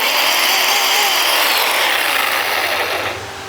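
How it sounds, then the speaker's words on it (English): A loud, buzzing electric chainsaw runs continuously at high speed close by, its motor tone dropping off at the very end. "electric chainsaw. So this is real handy"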